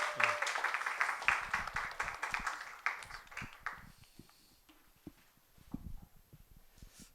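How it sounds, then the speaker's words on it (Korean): A crowd at a church worship service claps loudly and steadily for a few seconds, then the applause thins out and fades to scattered claps. "우리 함께 나오실 때 우리 큰 박수로 맞이하겠습니다."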